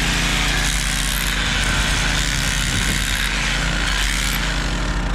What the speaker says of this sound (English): going down through there with a hammer drill